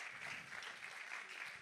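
Steady audience applause fills an award ceremony hall, a dense continuous patter of many hands clapping at an even level throughout with no pauses.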